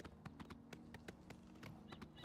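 Horse hooves clip-clopping in the video game Oblivion while riding, a quick irregular run of sharp, close hoof taps over a low steady hum, quiet overall.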